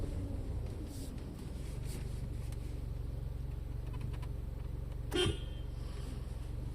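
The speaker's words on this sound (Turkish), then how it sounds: "Dur bir korna çaldım da gelen olursa." A single short car horn toot sounds once, fairly near, at a nature park lake in Turkey, over a steady outdoor background hum.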